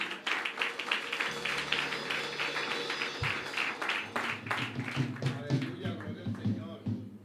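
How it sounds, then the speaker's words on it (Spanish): A church congregation applauds with quick, scattered hand claps throughout, while a low musical drone and some murmuring or voices sit underneath. "¿Puede brindarle un aplauso, por favor, al Eterno?"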